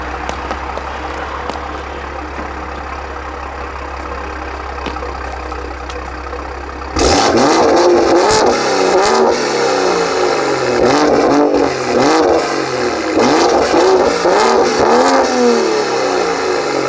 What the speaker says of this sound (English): I'm gonna give it one more rev